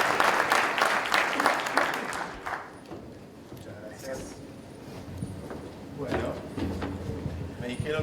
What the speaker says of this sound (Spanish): Les pido un muy fuerte aplauso para Santiago Silva